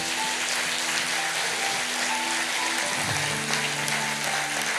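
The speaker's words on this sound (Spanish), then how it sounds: "le pueden dar un aplauso al Señor" Church congregation applauding during a Spanish-language service, continuous even clapping filling the room, with a low sustained instrumental tone underneath and no speech over it.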